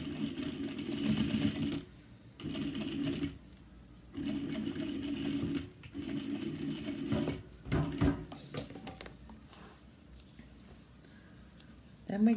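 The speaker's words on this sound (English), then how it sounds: "stitch, back stitch and stitch right across." A sewing machine stitches a daypack seam at a quarter-inch allowance, running in several bursts with short reversing back-stitch passes, fairly close and steady, separated by brief pauses.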